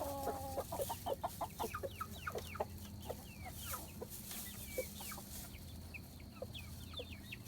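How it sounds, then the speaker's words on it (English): A flock of chickens, including young chicks newly joined to the group, clucks and peeps softly while pecking around leftover feed near a coop, a steady scatter of quick chirps and low clucks at modest distance. "they're just pecking around the leftover chicken feed that was there"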